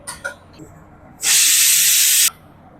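Vegetables for a stir-fry hit hot oil for tempering with a sudden loud hiss that holds for about a second and then cuts off, preceded by a few faint clicks.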